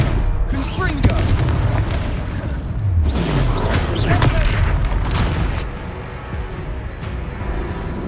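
Repeated booming blasts from the Confringo fire spell in Hogwarts Legacy, loud and close, layered over dense combat noise and game music with several thumping impacts throughout.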